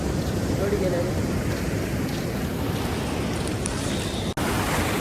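Rough sea waves at Panambur beach, a continuous roaring surf wash with wind buffeting the microphone, steady and loud throughout apart from a momentary dropout near the end.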